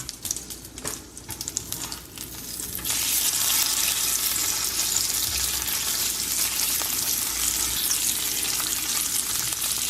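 Salmon skin sizzles in a pan over medium heat, a loud, steady frying hiss that swells after a brief quieter start and continues evenly, with no voices.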